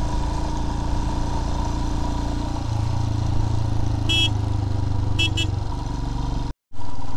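A motorcycle rides over rough off-road terrain in Ladakh with its engine droning steadily and loudly up close. A few short horn beeps sound near the end.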